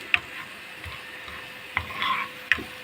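Garlic and coriander tasha for molokhia sizzling in a pan, with a soft fry crackle swelling briefly and sharp clinks of a utensil stirring against the pot at intervals.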